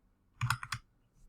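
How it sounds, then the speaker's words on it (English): A brief flurry of about five quick keystrokes on a computer keyboard, near and fairly soft, with no talking. "I expect you're typing something really important."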